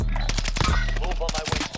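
Rapid automatic gunfire from a PS5 first-person shooter, dense bursts of shots layered with in-game effects and a voice partly underneath, continuous and loud throughout.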